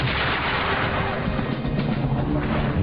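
German 88mm guns fire artillery in a World War II battle near Berlin, making a dense, continuous roar of booming fire and rumble that stays loud and steady throughout.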